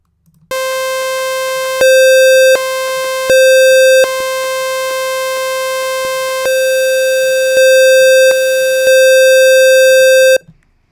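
A loud, buzzy distorted square-wave synthesizer tone with a harsh hollow edge, held steadily while stepping between a few pitches, then cutting off abruptly.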